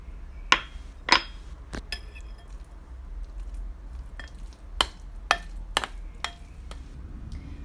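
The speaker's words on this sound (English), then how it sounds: "So I'm going to mix all of this in well." A spoon stirring sunflower seed cheese with minced garlic in a glass bowl, giving a handful of sharp, close clinks and taps spaced irregularly over soft, quiet scraping.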